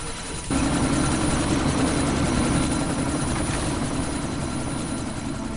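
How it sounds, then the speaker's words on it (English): A helicopter about to take off in Deus Ex: Mankind Divided, its rotor and engine cutting in after a brief pause and then a loud, steady, close whirring drone that holds to the end. "That chopper's about to take off!"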